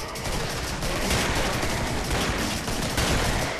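Sustained, fairly distant gunfire fills the scene in the video game Killing Floor 2, a steady wash of overlapping shots with no clear gaps, with no voices over it.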